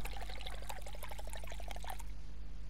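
Water pours in a short steady stream into a container in the cooking video game My Universe Cooking Star Restaurant, clear and close, stopping after about two seconds.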